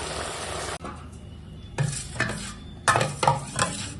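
A spoon stirs boiled masoor dal with turmeric in a metal pot, giving a few distinct knocks and scrapes against the sides between short quiet gaps, close and clear.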